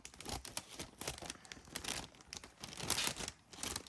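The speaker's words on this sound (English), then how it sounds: "I'm going to take my scissors then and just trim off the top." Close, crinkly rustling as scissors snip plastic from a Sizzix mitten treat holder, in quiet irregular bursts with no talking.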